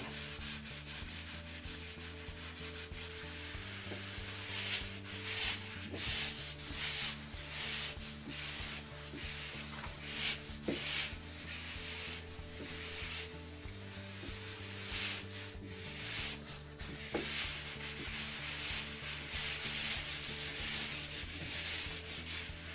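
Hand rubbing the third coat of a concrete countertop, a steady abrasive scrubbing that sounds like sanding, with repeated back-and-forth strokes over a continuous rough hiss, close and without talk.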